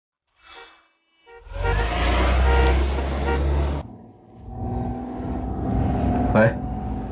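A car driving past, a loud engine roar rising abruptly, holding for a couple of seconds, then fading into a lower rumble with a short horn-like tone near the end; a brief voice is heard at the start.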